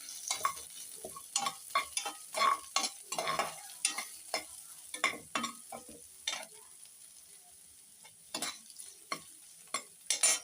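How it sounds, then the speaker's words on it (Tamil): Onion and dried red chili sauté in a pan, with repeated stirring scrapes and soft sizzling, close and intermittent, irregular bursts separated by quieter moments. "வெங்காயம் போட்டுட்டு அது கூட நம்ம காஞ்ச மிளகா ஒன்று எடுத்து வச்சுருந்தோம்ல அதையும் போட்டு நல்லா வதக்கிக்கலாம்"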